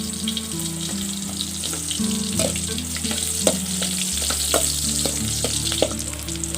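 Chopped onion frying in a pan in a Philippine countryside kitchen gives a loud, steady, close sizzle with crackling pops and scraping stir sounds, with no talking.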